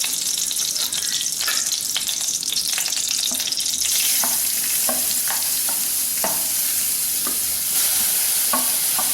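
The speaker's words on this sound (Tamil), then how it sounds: "பச்சை வாடை போக வதக்கினா போதும், ரொம்ப வதக்கணுங்கிறது இல்லை." Finely chopped carrot, capsicum and coriander sauté in a pan with a little oil and mustard seeds, a continuous close sizzle broken by repeated scraping and clicking of stirring.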